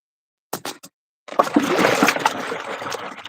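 Water sloshing and splashing in a big 30-litre bucket filled halfway, a few short splashes followed by a longer continuous churning splash, close and fairly loud.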